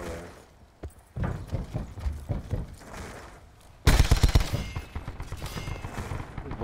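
Swordfish rifle in Call of Duty Black Ops 4, rapid bursts of gunfire, quieter shots early then a loud, dense volley of close shots with some faint background battle noise.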